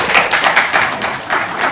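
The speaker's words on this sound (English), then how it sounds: "I think a round of applause is due." Applause from the audience at a Winter Garden city commission meeting, a steady patter of many hands clapping at moderate distance, with no voices over it.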